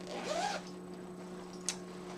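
A metal zipper pull on a knitting project bag is handled once, giving a brief close rasp and then a tiny clink against a faint steady hum.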